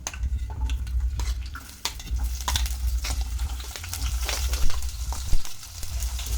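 Onions fry in hot oil in a pan with a busy crackle and sizzle, mixed with frequent scraping and knocks from stirring and a low rumble underneath. There is no talking.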